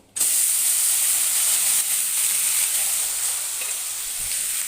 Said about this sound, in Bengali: এটা ভালো মতন ফ্রাই করে নেব। এটা ফ্রাই হোক।